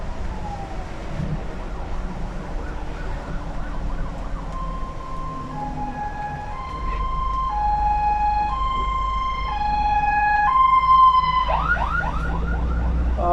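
An emergency siren wails in rising and falling tones over a low engine rumble, growing louder and closer toward the end.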